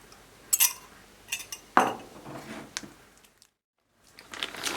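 Egg being mixed into choux pastry dough in a bowl, heard as a few scattered clinks and scraping stirs of a utensil against the bowl, with a brief silent gap before mixing resumes.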